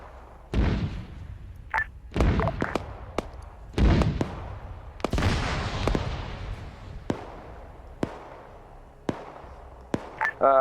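Explosions and blasts boom through an Arma 3 military game firefight set in Fallujah, with mortar-like impacts: a string of sharp, loud bursts, some near and heavy, others distant and thinner, spread unevenly with rumbling tails.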